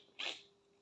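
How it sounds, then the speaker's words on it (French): One short, faint sneeze from a woman stands alone in a quiet room, over a low steady hum. "je vais éternuer"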